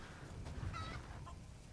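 Chickens clucking softly in Resident Evil Village, a few short clucks heard over a dense, steady game ambience with no talking.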